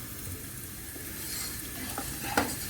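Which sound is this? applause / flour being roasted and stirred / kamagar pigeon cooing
flour being roasted and stirred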